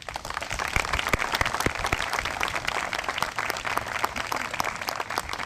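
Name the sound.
audience applause at preserve opening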